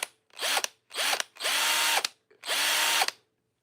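A single-speed electric power drill that sparks is triggered four times in quick succession. Each burst is a loud, close whine that spins up, holds briefly and cuts off, with short pauses between bursts and no speech over it.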